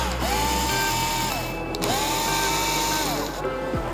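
A power drill backs screws out of the cover on a DJI Agras T100 agricultural drone, its motor whirring up and winding down in two close, loud bursts with a brief click between them.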